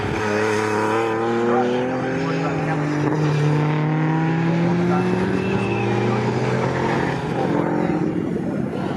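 Classic 1960s race cars, including a TR6, lap Snetterton circuit in a Swinging Sixties Series race, engines snarling loudly with rising and falling pitch as they pass, while a commentator talks over them.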